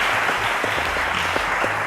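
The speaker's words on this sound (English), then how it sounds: "Round of applause, ladies and gentlemen." An audience at a televised quiz show applauds, dense continuous clapping from a large crowd, loud and even from start to finish.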